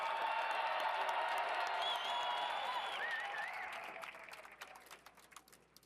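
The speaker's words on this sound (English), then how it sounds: "Can you please join me in a round of applause for our military families?" A ballroom crowd at a presidential inaugural Commander in Chief Ball applauds military families, dense clapping with a few whistles riding over it, holding strong and then tapering off toward the end.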